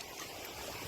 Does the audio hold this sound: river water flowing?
yes